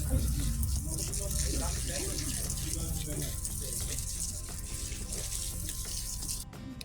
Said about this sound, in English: So when I water, I use this jug here. I just blow in the pipe and the water just comes out.